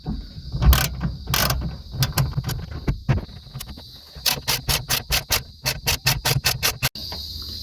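Ratchet wrench fitted with a 10mm socket clicks rapidly while backing out rear speaker bolts in a 9th-generation Corolla Altis, loud close bursts of sharp ratcheting in several runs with brief pauses, no talk.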